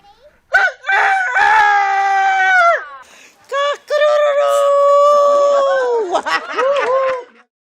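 A person's voice imitates a rooster crowing, giving two loud, drawn-out cock-a-doodle-doo calls close up with a short pause between them.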